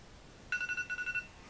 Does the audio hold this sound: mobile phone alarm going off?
yes